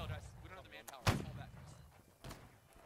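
A line infantry volley fires in a Napoleonic-style line battle video game. One sharp gunshot crack stands out near the middle, with a softer report later, under ongoing voices.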